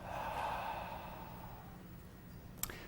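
A single slow exhale during mindfulness meditation, a soft, close breath that tapers off over about two seconds, followed by quiet room tone and a faint click.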